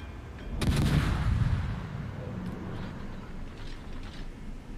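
Guns on a Tashkent tier 9 Russian destroyer fire in a naval battle game, a sharp, loud salvo crack followed by a rolling, rumbling tail that lingers at a steady level.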